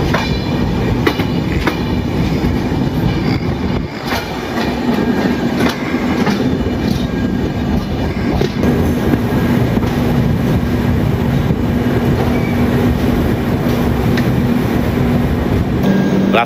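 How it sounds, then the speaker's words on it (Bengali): Samaleswari Express running at speed just after leaving Koraput Junction, a loud continuous rumble with rhythmic clickety-clack of wheels over rail joints and occasional squeals, close and alone without talk. "12:03 ট্রেনটা ছাড়লো এখান থেকে, কোরাপুট জাংশন স্টেশন থেকে"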